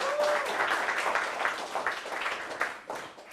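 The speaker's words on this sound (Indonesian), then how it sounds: "Boleh tepuk tangan dulu." An audience at a stand-up comedy show breaks into a burst of applause, a dense wash of many hands clapping that stays loud and sustained for a few seconds before starting to taper off.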